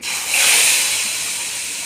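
Chicken pieces dropped into a hot pan burst into a loud, close sizzling hiss that starts almost at once and holds steady to the end.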